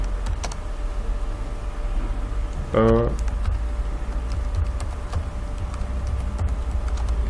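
Keys clack steadily on a computer keyboard while someone types a word into a Java program, with a brief tonal burst partway through over a low background hum.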